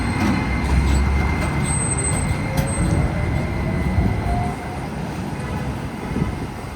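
A tram rides through the streets of Dalian, giving a steady rumbling, rattling drone of wheels and motor heard from on board, loud and continuous with faint higher squeals, and no talking.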